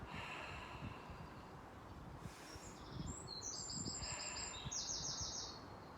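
Birds chirp outdoors in short bright bursts and trills, fairly faint over a steady background hum, with no one talking.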